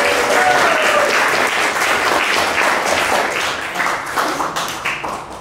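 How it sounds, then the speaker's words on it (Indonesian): A classroom of students applauds their classmates, with dense, loud clapping that tapers slightly toward the end. "tepuk tangan untuk teman-teman"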